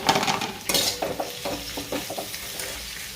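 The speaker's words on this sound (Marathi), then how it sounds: "आता जे काही कट केलेली ढोबळी मिरची ती टाकून घेते मी ती परतून घेणार आहे" Chopped capsicum sizzles in hot oil in a pan while a spoon stirs and scrapes in quick repeated strokes, close and fairly quiet, with no talking.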